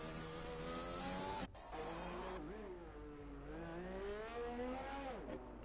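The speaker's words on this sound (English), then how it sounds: "lighting up the rear tyres again." A Formula 1 racing car from the F1 2020 video game at the Belgian circuit spins out, its engine wailing high and steady, then dropping and surging as the rear tyres light up and skid, loud and continuous with a brief cut near the start.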